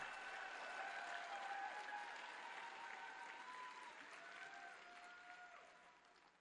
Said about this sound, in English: So Stuart Platt, give him a big round of applause.